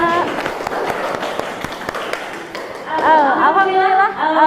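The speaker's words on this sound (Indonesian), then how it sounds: "beri tepuk tangan untuk kelompok 3" Students applaud group 3 after a presentation in a classroom, a steady patter of many hands with loud sharp claps scattered through it, and voices rise over the clapping in the last second and a half.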